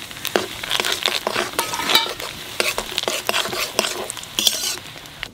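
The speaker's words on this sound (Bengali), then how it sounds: "তেলের মধ্যে দিয়ে দেবো 5 ফোড়ন," Five-spice, dried red chilies and bay leaves crackle and sizzle in hot oil for khichuri, with sharp spattering pops and stirring scrapes through the whole stretch.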